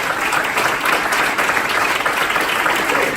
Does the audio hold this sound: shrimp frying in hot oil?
no